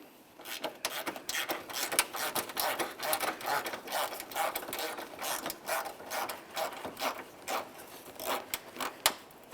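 A ratchet wrench clicks away as it backs out a 5.5mm bolt from a fender bracket, a close, quick series of uneven rattling ratchet ticks in short bursts.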